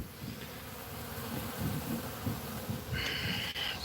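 Honey bees buzz steadily at a hive in a low, continuous drone, close and fairly quiet, with a brief higher whine near the end.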